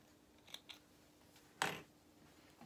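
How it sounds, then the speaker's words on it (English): Scissors snip sewing threads after machine stitching a doll's cap, with a couple of faint light clicks first and then one crisp, close cut standing alone in a quiet room. "we can trim our threads"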